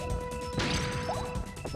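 A pod breaks in Bomberman 64 on the Red Mountain world, giving one loud crunching crash with a brief swishing tail. Game music plays steadily underneath and no one speaks.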